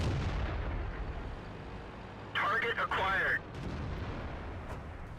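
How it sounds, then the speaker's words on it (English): Tank cannon fire in the World of Tanks video game booms in a brief loud burst amid a city brawl, rising out of a low rumbling background. "So a lot of shooting going on real quick there in that city."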